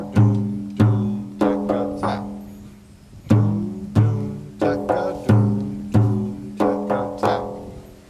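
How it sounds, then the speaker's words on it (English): A frame drum plays the Saidi rhythm at a drum-circle workshop, with deep resonant bass strokes and sharper rim taps repeating in a steady doubled-bass pattern, close and ringing, with no voices. "the next rhythm we're going to do is a rhythm called Saidi"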